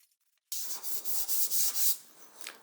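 Sanding on an aluminum tank near a weld seam, a steady hissing scrape in quick back-and-forth strokes that starts abruptly after a moment of quiet, close and moderately loud.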